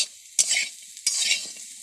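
Potatoes with neem leaves fry in a pan, with two quick stirring scrapes over a bright, steady sizzle of hot oil.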